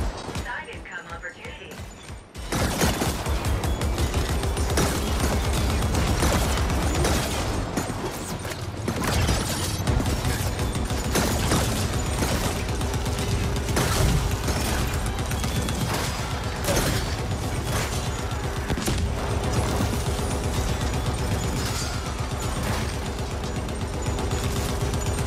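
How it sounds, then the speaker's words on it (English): Sustained automatic gunfire from a machine gun aimed at armored mechs in the video game The Ascent, continuous and loud with dense mechanical clatter and explosions after a brief quiet start. "First I'll use my machine gun without the augmentation, then I'll back up, apply the augmentation,"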